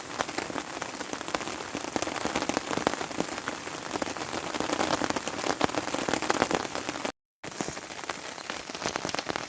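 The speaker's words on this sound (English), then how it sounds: "waiting for the worst of the rain to stop" Steady rain patters on a campsite during a solo canoe trip, a dense, continuous hiss of drops striking surfaces close by, with a brief dropout near the end and no voices.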